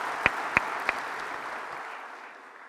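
Audience applause at a book launch for the Medemer State: a steady wash of clapping from a large crowd, moderately distant, with a few sharper nearby claps early on before it slowly fades.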